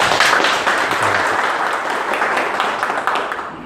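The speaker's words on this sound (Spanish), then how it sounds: "vamos a recibir con fuertes aplausos" Audience applause welcoming guest speaker Dr. Paul Concha at a road safety forum: a dense, steady wash of many hands clapping at once, sustained evenly for several seconds with no voices over it.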